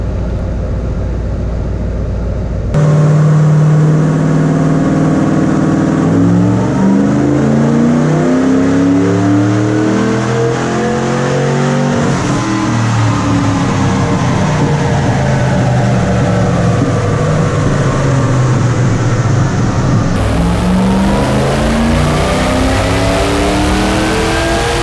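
A car engine on a dynamometer revs hard at about 80% throttle, rising and falling in long sweeping pulls with a brief dip midway, then climbing again loud and close throughout.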